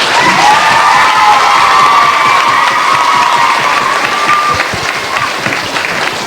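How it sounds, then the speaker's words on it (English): Loud applause and cheering from a hall audience at a 1998 school Christmas concert greet the infant class, with children's shouts mixed into a dense, sustained roar that eases slightly toward the end. "So a big round of applause for infant."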